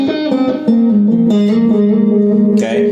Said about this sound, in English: you hear lots and lots of reverb